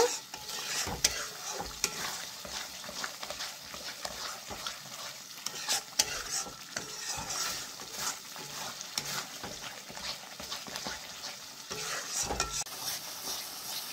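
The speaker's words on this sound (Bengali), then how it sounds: "2 থেকে 3 মিনিট আমি ভালো করে মশলাটা কষাই নেব" Spice paste for doi rui fish curry is stirred and fried over high heat in a pan, giving a continuous close sizzle broken by repeated scraping and stirring clicks of the spoon, with no talking.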